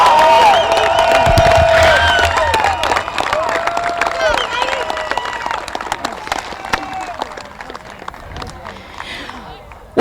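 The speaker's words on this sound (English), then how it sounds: "Let's give these ladies a round of applause." A stadium crowd at a women's football championship claps and cheers loudly, with whoops and shouted voices on top. The noise is strongest at first, then gradually thins and fades toward the end.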